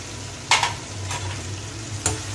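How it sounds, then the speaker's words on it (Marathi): Cashews and melon seeds frying in a pan for paneer tikka masala, a steady low sizzle with a few sharp scraping stirs of a spatula, close and alone. "काजू आपले थोडे फ्राय झालेले आहेत आता मी याच्यामध्ये मगज बी पण ॲड करतो"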